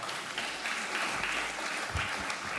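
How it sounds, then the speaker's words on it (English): Audience applause at a research symposium, a steady dense patter of many hands clapping throughout, fairly loud and continuous with no talk over it. "Another round of applause."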